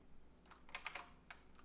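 Several key presses clatter on an ordinary non-US computer keyboard, quick irregular clicks in a small burst, quiet and close with no talking.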